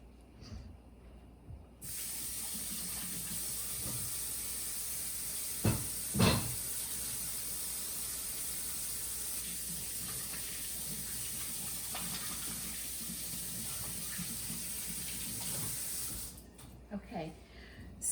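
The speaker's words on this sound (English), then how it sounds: "So I'm gonna wash my hands." Tap water runs into a sink for hand washing, a steady loud hiss that starts abruptly and continues for most of the stretch, with a couple of brief knocks and splashes before it shuts off.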